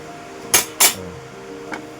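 A metal lid goes onto a cooking pot of thin catfish (singi) curry, making two sharp, close clanks in quick succession, followed by a softer tap a moment later.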